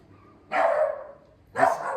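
A dog lets out two loud, separate barks about a second apart, each bark sustained briefly and close to the listener, with quiet between them.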